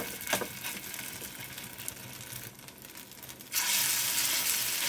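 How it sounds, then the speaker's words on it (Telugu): Spoonfuls of a thick homemade tiffin batter drop into hot oil and fry with a steady, dense sizzle that swells louder toward the end as more batter goes in, close by with no talk. "ఆయిల్ కొద్దిగా హీట్ అయిన తర్వాత మనం ప్రిపేర్ చేసుకున్న ఈ మిశ్రమాన్ని జస్ట్ ఇలా తీసుకుని ఆయిల్లో వేసి ఇలా కొట్టేయండి"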